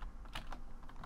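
A brief burst of computer keyboard key clicks during Minecraft play, a few quick taps close by with a low hum beneath.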